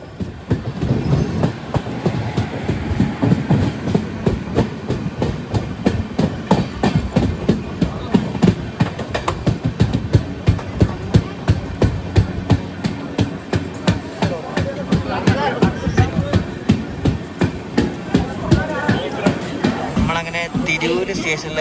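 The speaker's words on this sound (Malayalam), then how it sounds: "തിരൂർ സ്റ്റേഷനിൽ എത്തിയിരിക്കുകയാണ്." A passenger train rolls into Tirur railway station in Kerala, a steady loud rumble with rhythmic wheel clatter over the rail joints running throughout, and voices talking inside the carriage.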